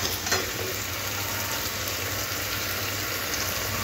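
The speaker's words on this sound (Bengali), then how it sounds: "টক দইটাও মশলার সাথে খুব ভালো করে কষিয়ে দিতে হবে" Sour yogurt and spices frying in a pan with eggplant, a dense continuous sizzle and crackle close up, with no talk.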